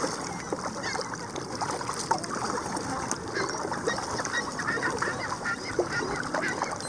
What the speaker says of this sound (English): So many birdies.